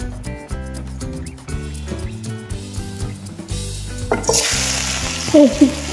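A breakfast of egg and tomato fries in olive oil in a pan, a bright hissing sizzle that rises partway through and continues steadily beneath background music.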